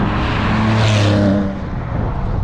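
Steady low exhaust drone heard from inside the cabin of a Porsche 996 Turbo, a continuous loud rumble with a slight swell in the middle, no talking.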